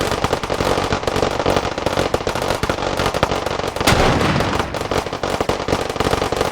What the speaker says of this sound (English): Oh, the grenades are coming out!